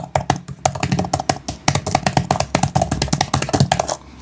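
Rapid, steady clicking of keys on a POCO Pad X1 tablet keyboard, close and crisp, with a brief pause partway through and no voices.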